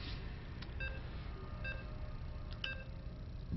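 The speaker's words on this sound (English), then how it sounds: "And the beeping happens." Short electronic beeps ring out in a game of Scrabble, several tones at about 0.6, 0.9, 1.7 and 2.6 seconds over a steady low hum of background noise.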